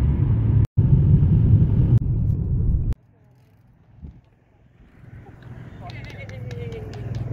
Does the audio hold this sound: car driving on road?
yes